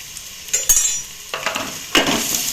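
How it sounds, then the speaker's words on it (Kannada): Onion goes into hot oil in short bursts of sizzle, mixed with metallic clinks and scraping of a utensil against the pan. "ಎಣ್ಣೆ ಬೆಚ್ಚಾತಲ್ಲ ಇತ್ತ ನೀರುಳ್ಳಿ ಪಾಡೊಂದಿಲ್ಲ"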